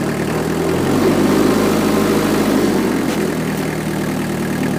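HOLDER AM2 prototype engine running in first gear at low speed, a loud steady close-up rumble that shifts slightly in pitch partway through, with no talking.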